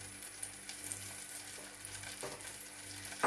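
Cumin seeds sizzle in hot oil and butter in a pan while saag paneer is being made, a soft, steady, close frying hiss with faint crackles and a brief louder stir at the very end.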